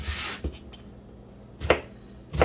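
A few separate knife chops on a cutting board while dicing onion, three distinct strikes spaced about a second apart over a quiet background.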